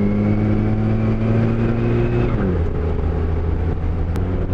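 Steady hum of a Nissan Sentra B12 engine with an automatic gearbox while driving, a loud tonal drone that shifts pitch as it changes gear midway, with no talking.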